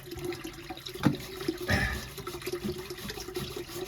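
Seawater leaks through a worn boat propeller shaft seal into the hull, a steady close trickle and splash with a couple of louder gushes and bumps, no talking.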